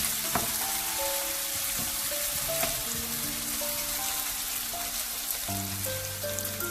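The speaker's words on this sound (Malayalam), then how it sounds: "എന്നിട്ട് ഇത് നന്നായിട്ട് ഒന്ന് വീണ്ടും വഴറ്റിയെടുക്കുന്നു." Chicken masala with green chilli and salt sautéing in a pan gives a steady, close sizzle with crackling pops throughout and no talk.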